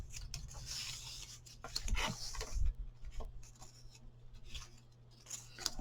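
Tape pulled from a roll and cut during crafting, heard as close, scratchy rips and snipping bursts in irregular clusters over a low steady hum.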